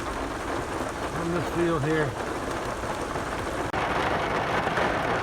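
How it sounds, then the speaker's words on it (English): Heavy rain pours steadily outdoors over flooded farm pastures and streams, a loud continuous hiss throughout, while someone speaks briefly partway through. "I think it's raining harder now."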